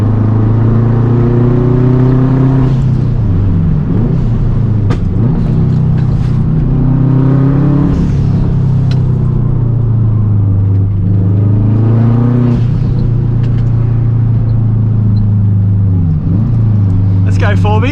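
A straight-piped Subaru WRX Hawkeye on a winding road, its engine droning loudly and rising and falling in pitch through repeated revving and gear changes, close and constant throughout.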